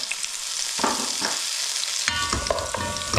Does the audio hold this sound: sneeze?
no